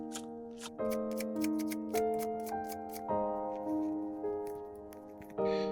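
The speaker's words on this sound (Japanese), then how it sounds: "それでは早速カットとシャッフルへ。" Tarot or oracle cards are cut and shuffled, crisp riffling snaps and taps coming in regular bursts about every second, played quietly over a soft musical tone with no talk.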